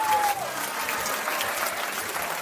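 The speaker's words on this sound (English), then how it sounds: "We gotta give some clapping." Steady applause from an audience fills the whole stretch, a dense wash of many hands clapping at an even level with no talking over it.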